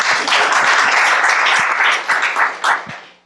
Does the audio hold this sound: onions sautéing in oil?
no